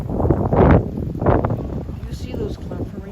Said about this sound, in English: It's super duper windy right now.